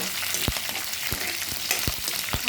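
Slit green chillies fry in a pan with a constant close sizzle, with several short crackles and pops scattered through it, as oil spits during tamarind rice preparation.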